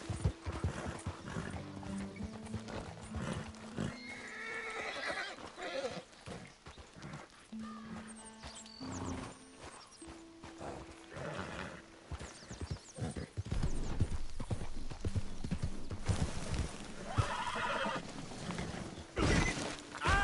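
A horse in the Red Dead Redemption 2 video game gallops with rapid rhythmic hoofbeats throughout, joined by occasional whinnies and snorts. A man briefly urges it on under the steady clatter.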